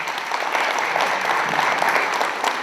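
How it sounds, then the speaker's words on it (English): Audience applause at a Mela in Millwoods, Edmonton, honoring the Sikh Federation of Edmonton: steady, dense clapping from a sizable crowd, sustained evenly throughout without a break. "Please give them a round of applause"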